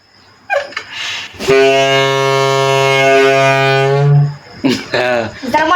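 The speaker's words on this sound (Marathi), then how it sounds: "फायनली असला भोंगा बनवलाय बघा पोरांनी" A loud, steady homemade horn blares for about three seconds, deep and buzzy with rich harmonics, with brief voices talking before and after it.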